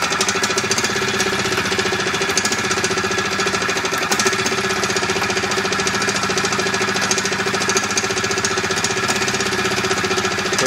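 A 1971 Harley golf cart's engine runs steadily with a rapid, rattling knock, loud and close, without interruption and with no talk.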